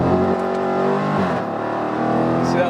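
Dodge Challenger SRT pulling hard in second gear, a loud, steady engine roar with rich low harmonics rising in pitch, heard from inside the cabin with people talking over it.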